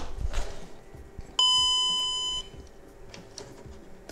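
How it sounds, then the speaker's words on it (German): A single steady electronic chime from a Volkswagen car's warning buzzer sounds for about a second, clear and close, over quiet background noise. "wie man gehört hat, der Gong funktioniert"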